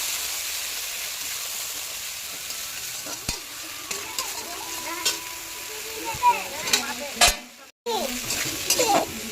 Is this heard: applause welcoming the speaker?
no